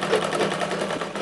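A sewing machine stitches a strip for a katori blouse, a steady, fast, rhythmic whirring chatter, loud and close, running alone without any talking.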